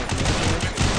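Rapid automatic gunfire in a video game, a dense, loud burst of shots with no pause across the whole moment.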